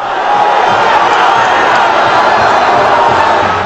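A dense stadium crowd of CRB supporters roars in sustained cheering after their side's free-kick opening goal in a 2012 Alagoas state championship football match, loud and continuous throughout.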